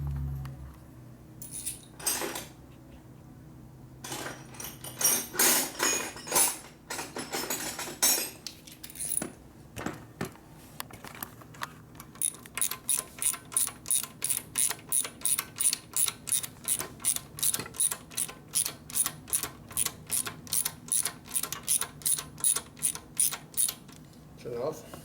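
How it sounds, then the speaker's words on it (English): A hand ratchet tightens a bolt on a Harley Sportster motorcycle, starting with scattered metallic clanks and then settling into a long run of rapid, evenly spaced clicking strokes, close and clear. "Run that up with a ratchet."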